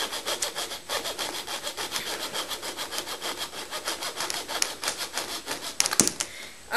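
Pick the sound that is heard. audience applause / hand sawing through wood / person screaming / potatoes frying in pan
hand sawing through wood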